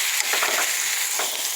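Chicken pieces sizzle in a hot pan as they are pre-cooked for a stir fry, a loud, steady hiss of frying with soft stirring scrapes and no voices.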